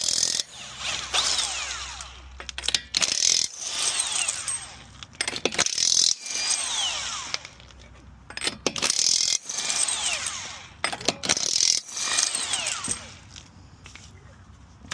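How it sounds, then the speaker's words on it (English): Security lug nut being removed from a Nissan Stagea wheel: repeated bursts of metallic ratcheting and clinking from the tool, with short pauses between them. "now that I got the security lug nut on, we'll be removing it"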